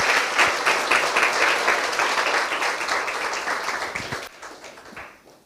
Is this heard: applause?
yes